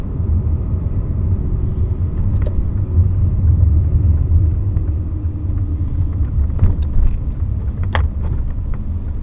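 Low steady road rumble from a Lexus LS 430 sedan on the move, a constant deep engine and tyre drone with a few faint clicks and knocks inside the cabin.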